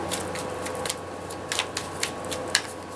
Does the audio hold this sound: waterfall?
no